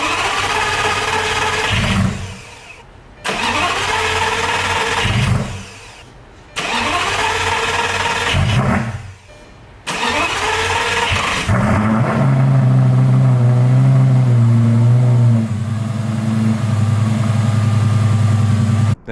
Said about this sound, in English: I usually crank it to fire 3 times just to prime the system